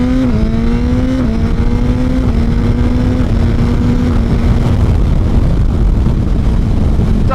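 A Suzuki GSX-R1000R motorcycle engine drones loudly and continuously under way, its pitch stepping slightly through the first seconds before settling into a steady roar mixed with wind rush.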